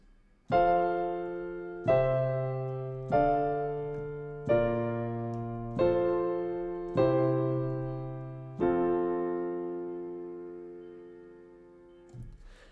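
A melody formed from chord inversions, beginning in first inversion, rings out as seven struck chords in a steady, unhurried rhythm, each decaying before the next, the last held longest, clean and alone without talk.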